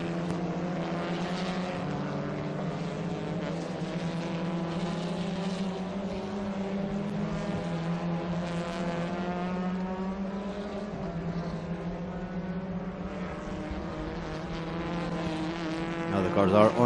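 TCR touring race cars run on track at Interlagos, their engines forming a steady, continuous drone with a brief swell near the end, under a commentator's voice.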